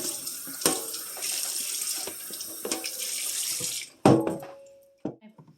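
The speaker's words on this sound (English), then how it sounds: "I'm going to give my cutting board a quick rinse" A cutting board rinsed under a running kitchen sink tap: a steady hiss of flowing water for about four seconds, then the tap shuts off, followed by a few drips and knocks as the board is handled.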